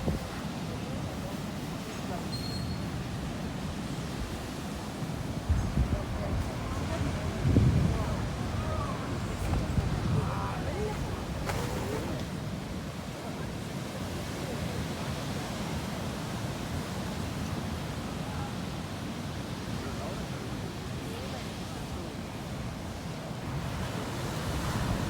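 Rough ocean surf at a beach in San Juan, Puerto Rico, a steady broadband roar of breaking waves with wind buffeting the microphone throughout, continuous and fairly loud.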